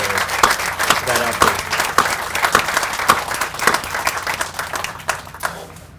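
Loud, close applause from an audience at a groundbreaking ceremony for a truck and diesel program expansion, with crisp individual claps standing out in a steady crowd patter, and voices talking underneath.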